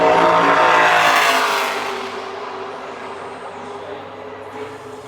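A NASCAR Xfinity Series race car on a qualifying lap at Phoenix roars loudly past, its engine peaking early and then fading into a steady, more distant drone as it speeds away around the track.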